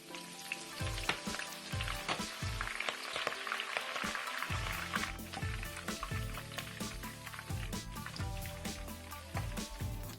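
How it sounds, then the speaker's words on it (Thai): Oil sizzles steadily as Chinese kale leaves fry over low heat until crisp, a dense crackling and bubbling that continues without a break, close and fairly loud. "จะทอดด้วยไฟอ่อนจ้า แล้วทอดให้ใบคะน้ากรอบ"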